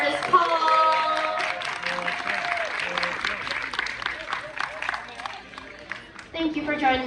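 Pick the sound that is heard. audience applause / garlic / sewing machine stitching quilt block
audience applause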